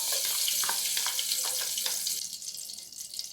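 Ghee hits a heavy-bottomed pot for mutton biryani, a bright hissing sizzle with light crackles that holds steady, then thins and fades slightly toward the end.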